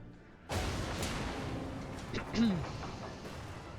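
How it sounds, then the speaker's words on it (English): Gunfire in World of Warships as the German cruiser Nuremberg fires high-explosive shells: a sharp loud blast at the start, then a rumbling tail and a second softer boom, with a brief tone over the top. "But the Nuremberg is firing high explosive at me."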